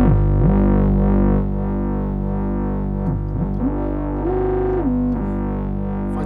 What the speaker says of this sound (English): with 2 oscillators going into the filter, even with the low levels, it's got such a lot of distortion